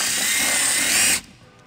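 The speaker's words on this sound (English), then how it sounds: "we're gonna use a 3/16 drill bit to drill our first hole" A power drill bores a hole with a 3/16 bit during a trailer wiring harness install, a loud steady high whine for about a second that cuts off abruptly, leaving a quiet room.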